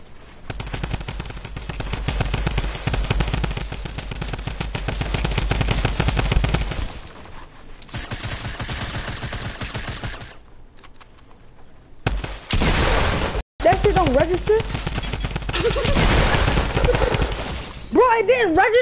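Rapid bursts of automatic gunfire in an online shooter video game, dense and loud, with short breaks and a near-silent gap partway through, while voices talk and shout over the shooting.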